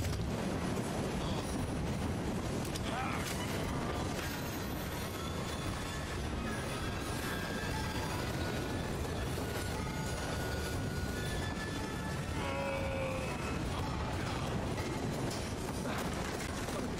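Train in the video game Assassin's Creed Syndicate rolling steadily, with a constant loud rumble, rattling carriages and brief metallic wheel squeals, heard alone without talk.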